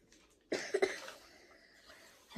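A young girl gives a short burst of two or three close coughs, which fade quickly into quiet.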